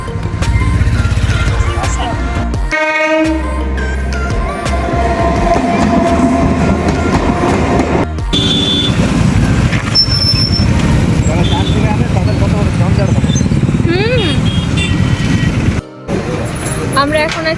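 A train rolls past a railway level crossing, loud and close, with a heavy continuous rumble and rhythmic clickety-clack of wagons, horn-like tones and other road traffic nearby, and voices talking briefly.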